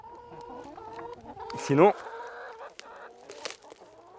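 Hens in a backyard coop clucking softly and repeatedly, with one louder squawking call rising briefly in the middle, while a person speaks nearby.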